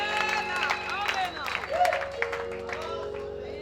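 A church congregation claps and ululates in praise, with dense overlapping trills and rhythmic applause filling the room, and voices rising and falling throughout.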